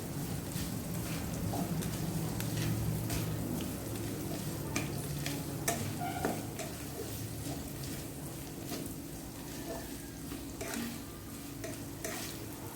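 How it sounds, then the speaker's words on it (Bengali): Chopped onions and green chilies fry and sizzle in a pan while being stirred, with steady crackling and intermittent scraping taps throughout and no talking. "এটা আমি এখন কিছুক্ষণ ভেজে নেবো, যতক্ষণ না কাঁচা গন্ধ পেঁয়াজে চলে যাচ্ছে।"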